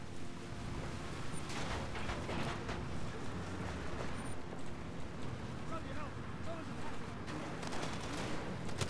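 Gunfire from Far Cry 2 crackles in scattered bursts over a continuous vehicle rumble as a car drives through a town under fire, with sharp shots spread across the stretch.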